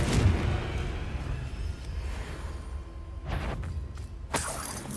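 A Confringo fire spell blasts during combat in Hogwarts Legacy, a dense, roaring crackle that swells, with sharp explosive bursts striking near the end.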